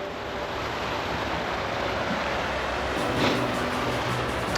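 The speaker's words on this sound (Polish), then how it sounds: "Cała ta rzeka chyba jest takim nurtem." A strong river current in California flows past as a broad, steady rushing wash with a slight swell near the end, continuous and fairly loud with no voices.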